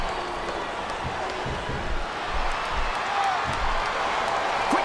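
Arena crowd at a WWE tag team wrestling match, a dense wash of cheering and noise from many fans, steady and fairly distant, with commentators talking over it.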